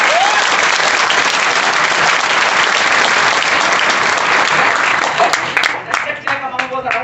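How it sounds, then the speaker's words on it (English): An audience at a convention applauds loudly and continuously, dense clapping that thins out and fades toward the end. "Jabardast applause for Mr. Arun Solanki."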